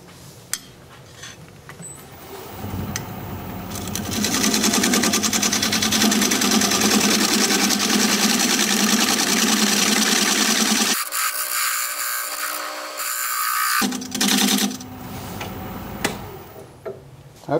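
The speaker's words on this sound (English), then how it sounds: "I'm going to use my recess tool to create the dovetail for the recess." Wood lathe spinning a bowl blank while a recess tool cuts a dovetail, giving a steady rising scraping and hissing cut that swells loud, drops out abruptly near the end, then resumes with short scrapes.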